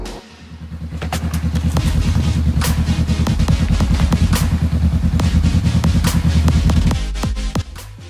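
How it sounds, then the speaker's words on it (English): A Honda Rebel 500 motorcycle rides along with a loud, close engine thrum, pulsing steadily and rising slightly before easing off near the end, with sharp clicks scattered through it. "Honda Rebel 500"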